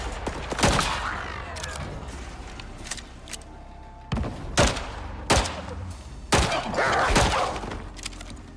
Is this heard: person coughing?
no